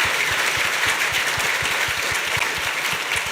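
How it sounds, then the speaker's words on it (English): A dense, steady round of applause from a sizable crowd, many hands clapping continuously at an even loudness with no voices over it. "just give them a round of applause for that"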